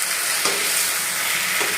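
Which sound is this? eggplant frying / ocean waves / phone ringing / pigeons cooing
eggplant frying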